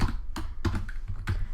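Typing on a computer keyboard, close and clear, with a handful of separate clattering key presses in an uneven rhythm and no voices.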